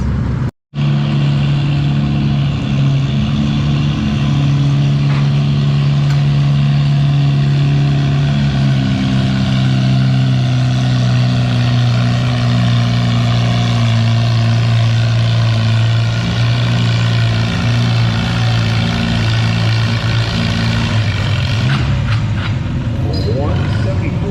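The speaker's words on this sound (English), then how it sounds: "we still have some more tractors in the class" A pulling tractor's engine roars loud and sustained during a run at the NW Fall Nationals tractor pull, its pitch shifting gradually over the pull while an announcer talks over it.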